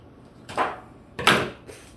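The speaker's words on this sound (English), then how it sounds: "Grab my scissors." Two sharp snipping cuts about half a second apart, close by, as scissors cut ribbon, followed by a fainter third snip, with no talking.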